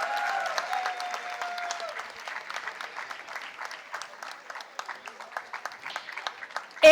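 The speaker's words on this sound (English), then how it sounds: "Keep the applause flowing while Priyanka makes her way to the stage." An audience at a university graduation convocation keeps up steady, moderate applause as a first-rank graduate walks to the stage, with a faint tone heard early on and the clapping continuing throughout.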